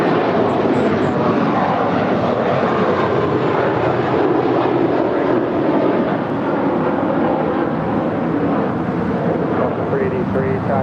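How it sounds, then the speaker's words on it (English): A JetBlue Airways Airbus A321 departs LAX for New York, a loud, continuous jet engine roar filling the whole clip with a dense, steady rumble. "It's an Airbus A321."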